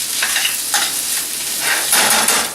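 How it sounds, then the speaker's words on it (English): Butter sizzling in a pan as onion and cabbage caramelize, with steady frying hiss and a few soft stirring scrapes, close and continuous with no voices. "You got a nice little caramelization with the butter, coloring the onion,"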